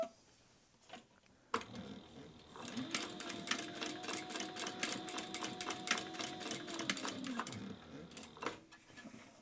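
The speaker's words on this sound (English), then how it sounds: "then we're going to sew this side down." A sewing machine stitches down a fabric lining in a quick, even run of mechanical clatter lasting several seconds, starting and stopping cleanly, close and fairly quiet.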